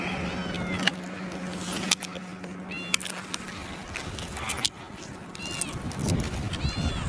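Friendly rescued cat meows repeatedly in short, close calls while someone speaks softly to it outdoors, with traffic and scraping noises around.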